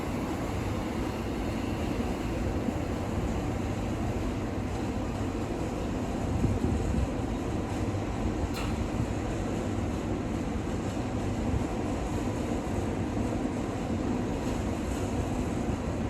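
British Rail Class 377 unit 377-214 passing by, a steady broad rumble of wheels and motors holding level throughout, with no voices.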